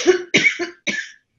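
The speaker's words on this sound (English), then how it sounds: "She's literally coughing it up" A woman coughs three times in quick succession, close and fairly loud, with short breaks between the harsh bursts.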